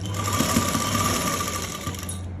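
A sewing machine runs steadily while stitching elastic lace, a continuous close mechanical whir with a low motor hum that dips briefly near the end before resuming, with no voices.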